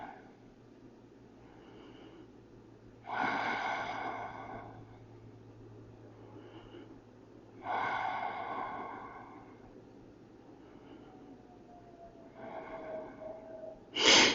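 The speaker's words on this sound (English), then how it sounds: "And breathe, slow and steady." Slow, steady breaths during a yoga stretch: three long, loud exhalations spaced several seconds apart, close to the listener, with quieter breaths between and a short sharp breath at the end.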